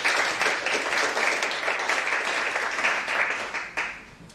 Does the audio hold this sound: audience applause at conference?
yes